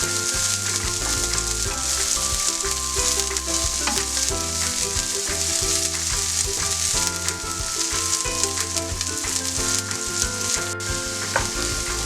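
Spring onion whites fry and sizzle in a pan while being stirred for honey glazed chicken, a loud dense crackle with scattered stirring clicks, close and continuous with no voices.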